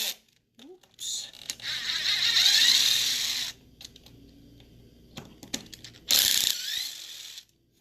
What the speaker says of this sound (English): guys are just going to remove 4 screws here.